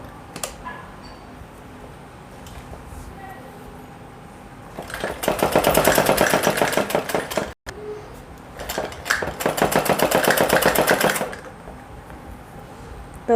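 A sewing machine stitches a sleeve onto a girl's suit in two loud bursts of rapid, rhythmic needle clatter separated by a short pause, with a quiet lead-in beforehand.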